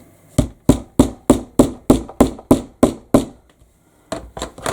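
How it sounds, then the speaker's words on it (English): Steady hammering flattening fabric seams on a sling bag, about a dozen sharp, evenly spaced blows, a short pause, then a few more strikes, close and fairly loud with no talking. "I'm going to make sure that I really hammer these down. So excuse the noise."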